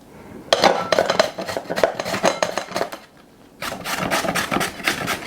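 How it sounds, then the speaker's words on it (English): Two large carrots rubbed against a hand grater for spring rolls, a close, steady run of rapid rasping scrapes that pauses briefly and then resumes. "Now I have completed shredding my 2 large carrots"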